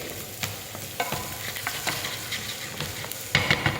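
Vegetables sweating in a pan for chicken stock sizzle steadily while a utensil stirs them, giving irregular scraping and clacking knocks close up, louder near the end.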